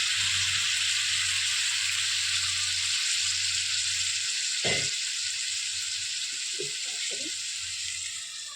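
Water hits sweet pumpkin frying in a pan, raising a steady, loud hiss of sizzling that runs throughout, broken by a single dull knock midway and a few light clinks.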